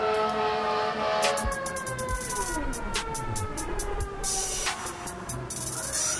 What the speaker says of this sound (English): That was very fitting, the sirens